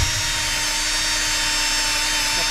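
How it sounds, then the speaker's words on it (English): A loud, continuous high-pitched whine of a power drill running steadily, close up, with no pauses. "So I'm drilling"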